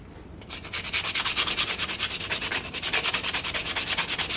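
Sandpaper scrubs rhythmically across a car's rear brake drum, fast steady back-and-forth strokes close to the ear, each pass a loud rasping swish, with no talk over it.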